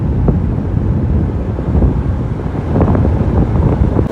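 Wind rushes steadily past a moving vehicle beside flooded paddy fields in Jaffna as cyclone rains begin. It forms a constant, loud low roar and buffeting on the microphone throughout, with no talking.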